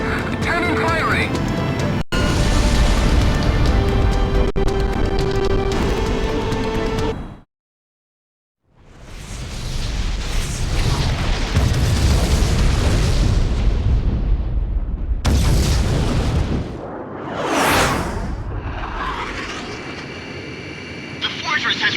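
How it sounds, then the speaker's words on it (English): Heavy booming blasts and roaring rumbles from cannon fire at a fortress in Ace Combat X, loud and close, broken by a brief silence, with excited voices talking over parts of it. "Cannon firing."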